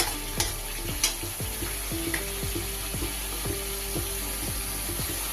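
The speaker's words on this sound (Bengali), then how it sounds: "টমেটোর কাঁচা গন্ধটা যতক্ষণ না চলে যায় ততক্ষণ ভালো করে কষিয়ে নেব" Tomato spice masala for a pea and paneer ghugni cooking down in a pan: constant sizzling under a regular series of spatula strokes and scrapes against the pan, close by, no voices.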